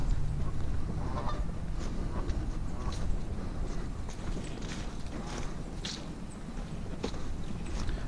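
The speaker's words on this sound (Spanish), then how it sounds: "Hay una fila larga de patos aquí" Ducks along a park pond in Trap Pond State Park, Delaware, on a cold morning, with scattered honks and quacks heard faintly amid constant outdoor rustle and footsteps.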